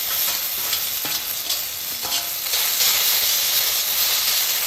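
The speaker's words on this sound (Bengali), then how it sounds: "লাউ পাতাটা ভালো করে এই করার মধ্যে একটু ভাজে নিই।" Boiled bottle gourd leaves fry in a pan with a loud, dense steamy sizzle and hiss, close and continuous, with a few faint stirring knocks and no one speaking.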